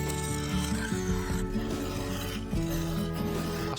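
A bowl gouge cuts an MDF waste block spinning on a wood lathe, giving a steady scraping rasp with a few clear shifts in tone as the tool bites, close and fairly quiet.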